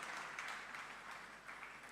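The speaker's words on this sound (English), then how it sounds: "Please give her a round of applause." Audience applause at a national non-oil export conference, a steady wash of clapping from a large crowd sustained throughout.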